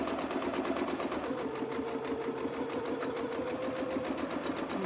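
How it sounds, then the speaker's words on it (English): A sewing machine zigzag-stitches two raw fabric edges together into one seam, running continuously with a rhythmic, rapid needle beat over a low motor drone, close and moderately quiet. "both raw edges of the fabric are being zigzagged together to make one seam"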